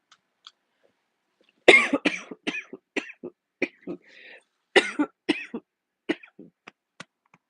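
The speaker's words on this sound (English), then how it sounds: "Makes me cough so much." Repeated harsh coughing in close, irregular bursts, with brief pauses and some throat clearing between fits.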